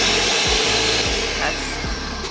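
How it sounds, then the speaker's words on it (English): A blender whirs steadily at high speed through a lemon juice mixture for vegan tartar sauce, with a loud, constant roar and a few low thumps as contents shift. "We are going to blend it until it's chunky."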